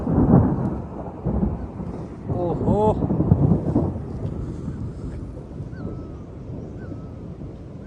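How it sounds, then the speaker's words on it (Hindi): Loud rolling thunder booms across a mountain road in Arunachal during the monsoon on a solo motorcycle trip, the rumble swelling early and then fading under steady rain and wind, with a brief exclamation from a voice. "बहुत भयंकर बादल गरजा यार।"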